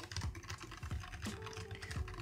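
Fingers typing on a Keychron K8 or K1 tenkeyless mechanical keyboard, a steady run of close, crisp key clicks with a few heavier strokes, nothing else in the background.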